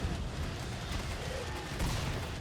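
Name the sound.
gunfire in video game Killing Floor 2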